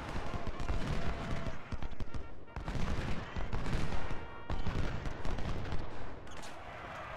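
Musket volleys and scattered rifle fire from the Civil War battle game Ultimate General: Civil War, with rolling crackling bursts and booming reports that pause briefly and then resume.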